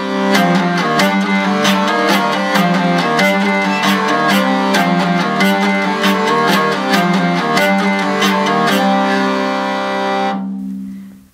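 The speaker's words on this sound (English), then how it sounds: "And all of the strings together sound like this." Hurdy-gurdy playing all its strings together, with sustained drones under a melody and rhythmic buzzing trumpet strings. The sound is dense and loud, played alone for about ten seconds before it stops abruptly.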